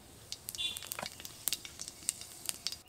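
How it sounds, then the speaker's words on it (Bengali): Panch phoron spices crackling in hot mustard oil in a kadai for raw mango achar, scattered sharp pops and sizzles, fairly quiet and close. "তেলের মধ্যে দিয়ে দেব সামান্য পরিমাণ 5 ফোড়ন।"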